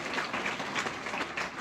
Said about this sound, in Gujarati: જોરદાર તાળી થઈ જાય ફરીથી એકવાર